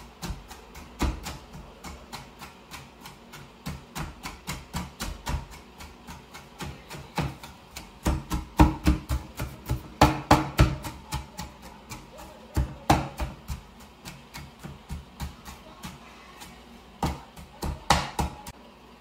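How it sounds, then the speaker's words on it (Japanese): A 7-year-old finely minces food with a kitchen knife, producing close, crisp blade taps on a cutting board in fast, uneven bursts with brief pauses between runs. "スーパーみじん切り"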